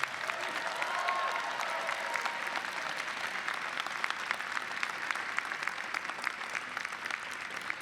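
At a 2018 commencement ceremony, a large audience applauds families and friends with a steady, sustained roar of clapping that stays even and full for the whole stretch.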